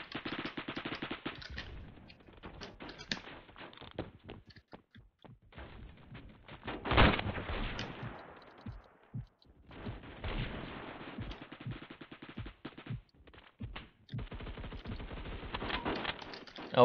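Gunfire in the Roblox game Phantom Forces, rapid bursts of shots with one louder blast partway through and scattered single cracks between, with faint background clatter and no talk.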